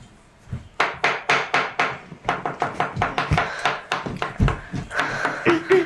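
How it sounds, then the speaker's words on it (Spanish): Rapid, irregular hammer blows knock on wood from a neighbor's home, close and sharp, continuing steadily with no voices. "deje de hacer ruido, dejen de estar martillando"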